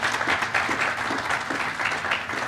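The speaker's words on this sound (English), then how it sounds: "can we give a round of applause for these gentlemen coming here today and talking?" Steady applause from a conference audience at a rail transit panel, a dense wash of many hands clapping at once, full and continuous without pause.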